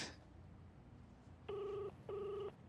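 A phone rings quietly with two short electronic trills in quick succession, following a near-silent room.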